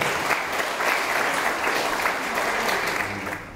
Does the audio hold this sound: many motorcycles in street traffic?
no